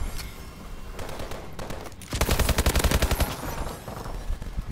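Gunfire in the Call of Duty Advanced Warfare video game, with scattered single shots followed by a loud rapid automatic burst, then a few more isolated shots, clear and close.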